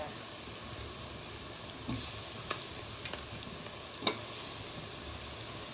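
Chopped tomatoes fry in a pan with a soft, steady sizzle, broken by occasional light clicks and stirring scrapes, quiet and close.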